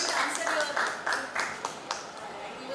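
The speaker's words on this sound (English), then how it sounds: "let us express our appreciation with big round of applause" An audience at a university research methodology workshop breaks into applause, a moderate burst of clapping that fades over a few seconds, with a voice speaking over it.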